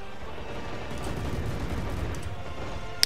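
Dense automatic weapons fire in the war strategy game Men of War: Assault Squad 2, a rattling, overlapping burst of shots that holds steady throughout, ending in a sharp crack.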